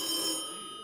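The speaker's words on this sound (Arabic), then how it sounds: "دق التليفون مرة ثانية" A telephone bell rings in one short, bright burst, clear and close with no voices over it.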